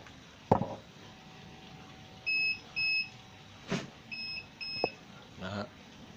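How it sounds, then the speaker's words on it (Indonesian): Heating indicator on a bottom-loading gallon water dispenser beeping, two pairs of short clear electronic beeps amid a few knocks and clicks, fairly close and moderately loud. "terdengar ada indikator berbunyi ya. Indikator ini indikator panas ya."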